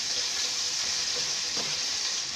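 Crushed ginger and garlic, one tablespoon, frying in hot oil in a pan while making daal and pumpkin sabzi, giving a steady, close hissing sizzle throughout with no talking.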